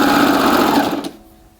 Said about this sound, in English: I think I'm going to make the big one also with the serger, just because it's so easy.